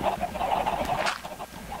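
Several video game chickens clucking together, a busy cluster of short clucks and squawks at close range, no talking.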